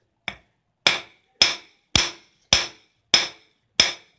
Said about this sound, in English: tap lightly and flatten that out you can see it gets a little bit flat